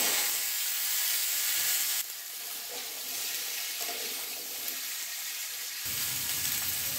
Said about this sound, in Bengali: এখন পটল ভেজে যে তেল আছে ওই তেলে আমি পাঁচফোড়ন দিয়ে দেব।